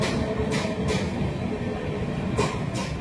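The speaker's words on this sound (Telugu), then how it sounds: "ఇప్పుడు మీకు ఇక్కడ లోకల్ ట్రైన్ కనబడుతుంది" A Delhi local train runs along the rails with a loud, continuous rumble, broken by rhythmic clacks as wheels cross rail joints.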